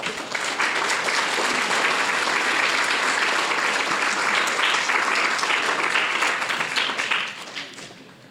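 Audience at a language arts celebration applauding steadily, a dense even wash of many hands clapping that holds for about seven seconds before tapering off near the end.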